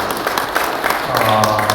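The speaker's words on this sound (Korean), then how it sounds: "다시 한번 뜨거운 박수를 보내주시기 바랍니다" Applause from an audience at a Korean panel forum on press silence and election fraud: a loud, continuous clatter of many hands, with a voice rising over it toward the end.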